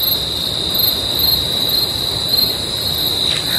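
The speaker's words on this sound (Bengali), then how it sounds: "শুধু ঝিঝি শব্দ ছাড়া আর কিছু শুনতে পাবেন না," Night crickets near a homestay at Dudhiya in North Bengal keep up a loud, unbroken shrill drone, with faint background rumble and no speech.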